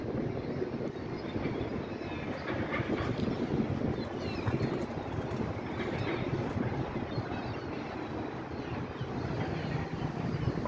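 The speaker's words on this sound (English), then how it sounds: "Quite windy out this morning." Steady wind buffeting the microphone atop Galata Tower in Istanbul, overlooking the Golden Horn on a blustery morning, a constant low roar throughout with no talk.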